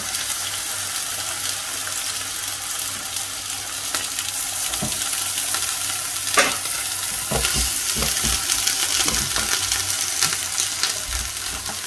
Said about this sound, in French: on va faire cuire des steaks, comme je t'ai dit, saisis pendant 30 secondes à feu vif